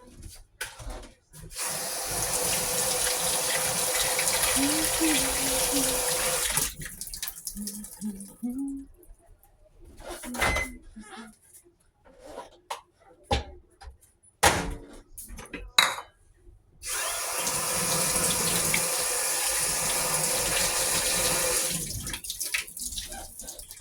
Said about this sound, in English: I'm just rinsing off my spatula because I used it earlier to make a sandwich